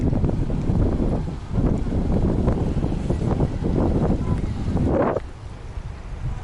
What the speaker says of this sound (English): That's the waterfall over there, the Ushu Waterfall.